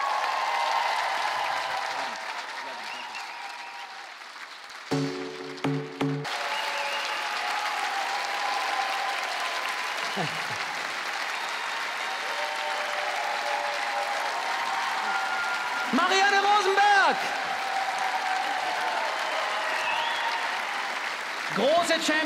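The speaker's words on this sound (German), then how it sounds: "nochmal einen ganz großen Applaus für all die Menschen, die hinter der Bühne arbeiten" Sustained audience applause fills a TV show studio, steady and dense throughout, with brief musical stings and a host's voice cutting in now and then.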